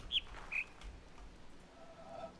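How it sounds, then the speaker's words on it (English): Bird calls in The Witness: two or three short high chirps near the start, then a faint call later, all over a quiet airy background. "I hear the bird"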